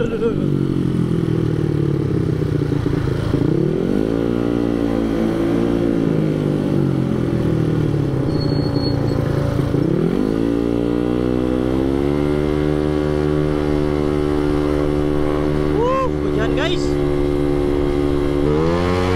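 A Beat 115cc motorcycle revs loudly and repeatedly through an open small-pipe straight-through exhaust, pitch rising and falling in long sweeps before settling into a steady high idle.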